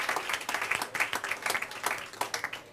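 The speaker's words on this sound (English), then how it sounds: "So a big applause for the female leaders of Europe." Applause from an audience at a European forum gathering honouring female leaders of Europe, dense irregular clapping filling the short stretch at a steady moderate level, with a faint voice underneath.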